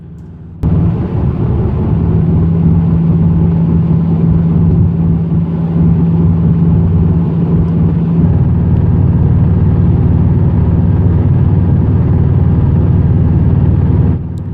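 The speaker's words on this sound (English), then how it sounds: "it was this monotonous Subaru rumble all the way from England to Estonia" Subaru WRX STI engine droning while driving on a long road trip, a loud steady low-pitched rumble with a constant hum, heard from inside the car.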